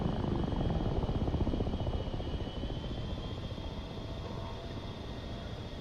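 Helicopter in the DCS A-10C flight simulator, a steady close rotor and engine drone with a continuous whine, loud and unbroken throughout with no talk.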